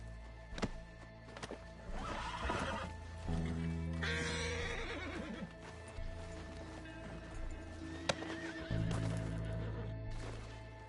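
A horse in Red Dead Redemption 2 whinnies loudly and its hooves clop along, the neighs rising clearly over layered game music and ambience.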